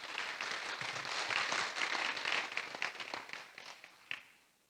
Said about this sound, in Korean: 우리 주님께 감사한 마음, 서로를 사랑하는 마음으로 격려의 박수 한번 할까요?